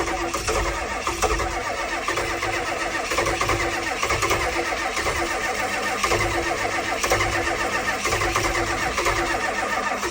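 A glow-plug diesel engine cold-starting and running rough and loud, with a dense, steady clatter that continues throughout and no voices over it.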